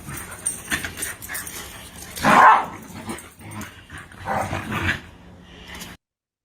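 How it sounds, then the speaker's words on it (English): A boisterous pit-bull-type dog growls and barks in rough play, giving uneven bursts of gruff growls and short barks with pauses between, the loudest barking near the middle, before the sound cuts off abruptly. "He just loves to growl."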